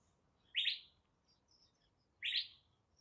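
Two short bursts of bright bird chirping from birds perched along a fence, evenly spaced about two seconds apart against a faint, quiet background.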